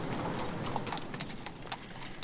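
Horse-drawn carriage hooves clip-clopping on a city street in Vienna, a steady run of sharp hoof strikes at moderate distance over a continuous urban background hum.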